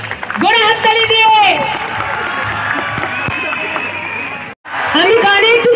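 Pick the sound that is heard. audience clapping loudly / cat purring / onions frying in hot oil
audience clapping loudly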